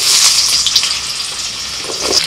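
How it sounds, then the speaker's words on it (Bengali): Potatoes hit a small amount of hot oil in a wok with a steady, close, fairly loud sizzle and a light bubbling hiss, with no voices. "আবারও কড়াইতে অল্প তেল দিয়ে ওর মধ্যে দিয়ে দিচ্ছি আলু।"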